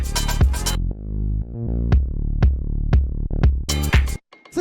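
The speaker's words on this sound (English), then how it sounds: "It's just a nice like hard hitting kind of deep kick that works really well with the bass too." A soft but deep, hard-hitting kick drum thumps at an even pulse under a gliding bass line, framed by denser full-mix bursts at the start and end, with no voices.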